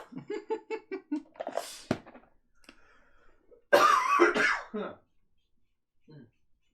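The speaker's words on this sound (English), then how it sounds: "One clear cough." Someone talks briefly, then after a pause gives one loud, clear cough close to the microphone, followed by quiet.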